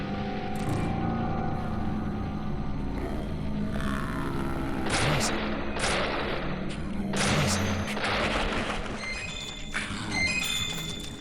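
Magnum handgun shots in Deadly Premonition, several heavy reports spaced out through the stretch over a steady ambient game background, with no talk.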